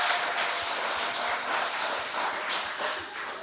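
Applause from a Sunday church gathering in Gatineau for the man on the soundboard, steady moderate clapping from a crowd lasting a few seconds and fading slightly at the end.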